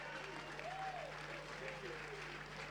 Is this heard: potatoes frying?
no